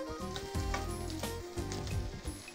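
Potatoes fry in a pan alongside carrots and onions, giving a close, steady sizzle with soft crackling and occasional stirring, alone without talk.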